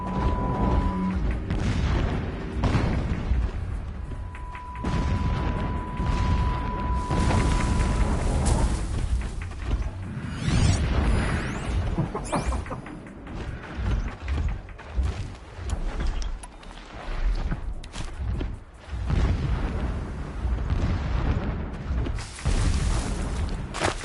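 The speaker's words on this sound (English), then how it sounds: "explosions in the distance" Deep, distant booms roll continuously through a PS4 video game scene, a dense low rumble of explosions with mechanical clatter layered on top.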